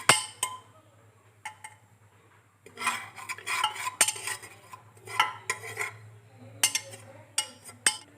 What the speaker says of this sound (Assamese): গৰম তেলৰ লগত চেনিখিনি ভালদৰে মিক্স হ'বলৈ দিম